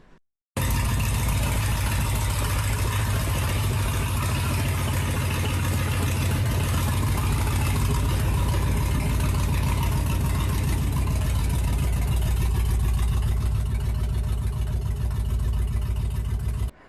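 A freshly rebuilt engine in a Factory Five 35 hot rod truck idles steadily and loudly, a constant low rumble with no breaks, recorded up close for the whole stretch.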